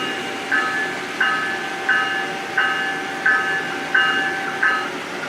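A G scale model diesel locomotive with a TCS WOW DCC sound decoder gives a repeating horn-like tone about every 0.7 seconds over a constant low engine hum, close and moderately loud.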